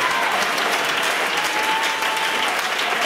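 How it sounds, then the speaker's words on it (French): Congregation applause at a church revival service in Yamoussoukro, loud continuous clapping from a standing crowd, dense and even throughout with a faint tone ringing underneath. "Est-ce qu'on peut se tenir debout et donner une main d'acclamation?"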